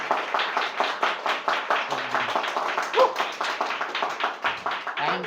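A church congregation claps for its pastor at a Father's Day service in a rhythmic, fairly close burst of hands beating together, with voices speaking now and then over the clapping.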